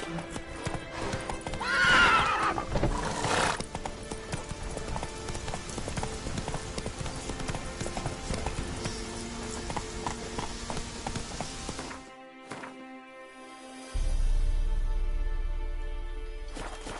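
Roach, a horse in a video game, gallops with rapid, rhythmic clip-clop hoofbeats, close and loud, with a whinny near the start; the hooves cut out briefly before a low rumble takes over.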